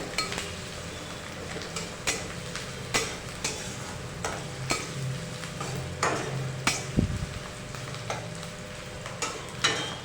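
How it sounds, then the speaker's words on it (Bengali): Onions frying in oil in a pan in a village kitchen, a soft steady sizzle broken by regular scrapes and clinks of a spoon stirring against the metal, fairly faint and without talk. "এবার পেঁয়াজের উপর দিয়ে দেবে পেঁয়াজটা সামান্য নেড়ে চেড়ে নিয়ে"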